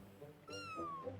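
A cat meows once in the video game Spiritfarer, a bright drawn-out call rising over a soft background music bed, close and moderately loud.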